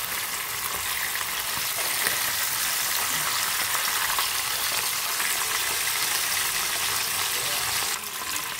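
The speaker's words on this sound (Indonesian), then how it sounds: "kita goreng ya. Balik ya," Marinated mackerel (kembung, rubbed with salt and turmeric powder) fries in hot oil with a steady, dense sizzle and crackle throughout, close and continuous, with a brief shift near the end as the fish is turned.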